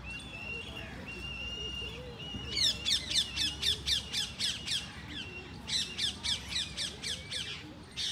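Birds squawking in Lodhi Gardens, a park in Delhi, in winter; two bursts of rapid, loud repeated squawks, roughly eight calls each, come close by over soft background murmur.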